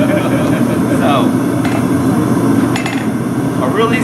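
A farrier swings a hammer while shoeing a horse, sharp metallic strikes ringing out irregularly over a constant loud background hum, several clinks spaced across the stretch.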